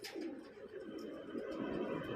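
Pigeons cooing softly on a rooftop loft during homing training, a low continuous murmur of coos with faint chirps above, moderately distant and steady throughout.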